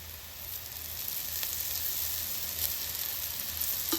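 Thalipeeth, a flat spiced flatbread, fries in oil in a pan, giving a steady close hiss of sizzling with small crackles throughout, no voices.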